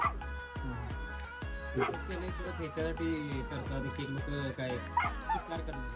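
Several dogs bark and yip repeatedly at a dog race in Nipani, sharp overlapping barks with whimpers close by, mixed with crowd noise and some talk throughout.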